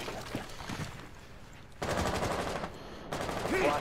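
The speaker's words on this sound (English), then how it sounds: "Providing covering fire." Bursts of automatic gunfire from the Rainbow Six Siege video game crackle in rapid strings, with a quieter stretch between two louder volleys and no talk over them.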